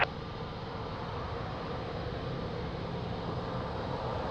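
Airplane taking off at Lisbon Airport on runway 02: a steady, broad jet engine roar heard from a distance, holding constant without clear peaks for several seconds.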